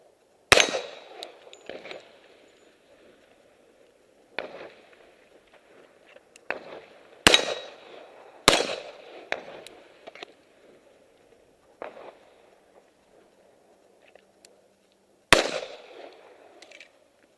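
Gunshots fired at a small target of about five inches ring out as sharp separate cracks, some louder and some fainter, spaced irregularly over a quiet background.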